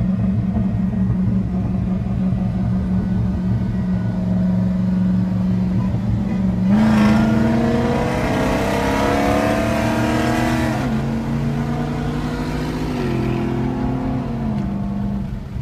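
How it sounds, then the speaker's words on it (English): A twin-turbo V8 SRT car revving hard and pulling away, a loud, deep, continuous engine drone that climbs in pitch through a sustained acceleration, then eases and climbs again. "It's a twin turbo. V8 twin turbo."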